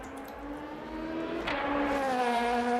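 LMP2 race car at Spa in the Le Mans Ultimate racing game, a steady engine drone rising in pitch as it accelerates, with a brief shift-like blip midway, continuous and moderately loud.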